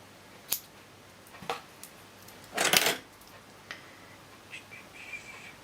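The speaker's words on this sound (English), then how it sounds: "I'm going to cut a little scrap off here." Scissors snipping a small scrap of cheesecloth in a few quiet, separate cuts, with one longer, louder crunch of blades in the middle and faint clicks and light tapping after it.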